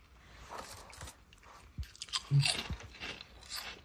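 Crunchy, airy Polish potato snacks shaped like little ghosts being bitten and chewed close up, with several quiet crisp crunches over about four seconds and no talking.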